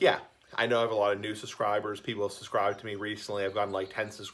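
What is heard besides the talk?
No everyday noises stand out.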